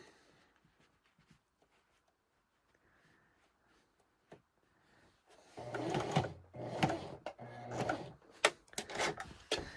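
Sewing machine stitching down the first edge of a farmhouse kitchen dish drying mat, heard as a loud, steady run of stitching that follows a quiet stretch of small handling noises.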